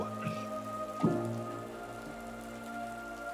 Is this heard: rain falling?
yes